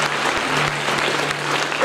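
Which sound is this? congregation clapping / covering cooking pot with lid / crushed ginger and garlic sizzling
congregation clapping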